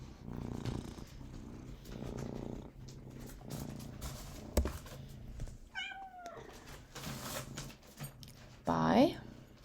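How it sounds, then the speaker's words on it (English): A house cat purrs close by in a steady, loud rumble, with a brief higher call partway through and a person talking over it. "I'm not sure if you can hear my cat purring"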